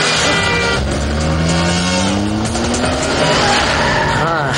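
A car brakes hard and its tyres skid and squeal in a comedy film scene, a loud sustained screech over engine roar lasting several seconds, with voices mixed in.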